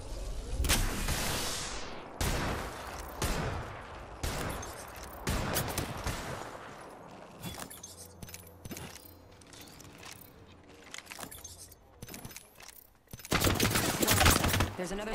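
Video game combat with bursts of loud gunfire and mechanical clatter, rising and falling in dense volleys and heaviest at the end, while a voice is heard in places.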